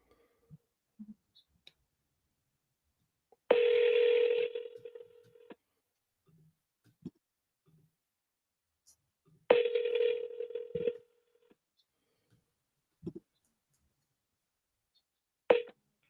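Outgoing phone call: two long ringback tones spaced a few seconds apart, with scattered soft clicks in between and a short tone at the end, heard close and alone without talking.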